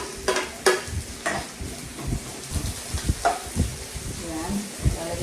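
Onions dropped into hot oil for a pork adobo biryani, sizzling with repeated clinks and scrapes of a spoon against the pan, close and moderately loud, with brief speech in the background.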